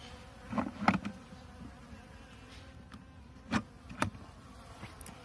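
Honeybees in an opened hive during feeding after winter give a faint, low buzzing hum with a few brief, louder buzzes as individual bees pass close by.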